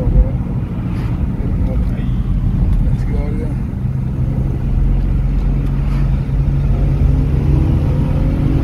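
A Nissan 350GT/G35 engine accelerates with a steady, loud rumbling drone heard from inside or near the car, while excited voices shout over it.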